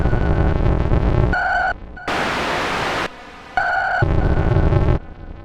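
Korg Prologue 16 analogue synthesizer playing digital oscillator noise presets: loud bursts of hissing noise alternate with buzzy, pitched tonal stretches, switching abruptly several times and then cutting to near silence, with no voices.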